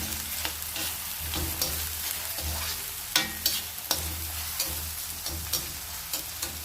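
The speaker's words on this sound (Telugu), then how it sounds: "పచ్చిమిరపకాయ ముక్కలు ఉన్నాయి కదా, అవి కూడా వేసి వేగే వరకు కలుపుతూ ఉండాలి." Chopped green chillies and onions fry in oil while being stirred, a steady close sizzle with repeated scraping and knocking of the spoon against the pan.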